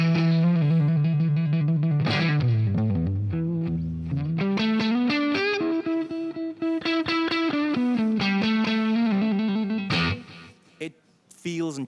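Electric guitar played softly through a Line 6 Helix LT multi-effects unit, clean plucked notes and gentle chords ringing out in a loose rhythm, close and clear with brief pauses between phrases.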